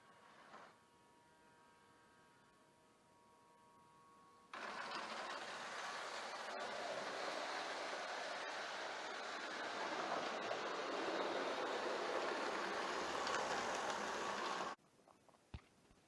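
A Mehano TGV Ouigo model train running on track gives a steady, loud whirring motor drone with rail rumble lasting about ten seconds, then cuts off abruptly, with quieter hum before and after.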